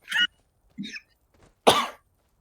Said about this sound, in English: You've been coughing a storm as of late.